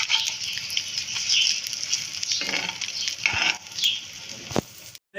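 Bread slices frying in a pan for shahi tukray. There is a steady close sizzle and patter of hot fat with a few scraping stirs, and it stops abruptly near the end.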